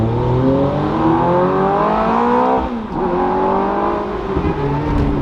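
A car, likely a Ferrari or Hellcat, revs hard and accelerates past in a loud flyby, its engine note climbing through a rising sweep of harmonics with a brief dip as it shifts, continuous and close throughout.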